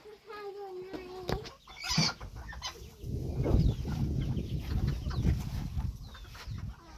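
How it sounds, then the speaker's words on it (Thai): A bantam chicken, a jungle fowl, gives a few sharp clucks and calls nearby outdoors, mixed with rustling and scattered barnyard noise, fairly faint. "ตัวนี้เป็นไก่แจ้ ไก่ป่า"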